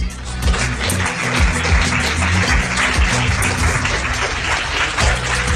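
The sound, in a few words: applause for a person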